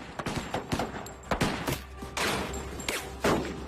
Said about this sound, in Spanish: Todos los sospechosos salieron de la caja disparando.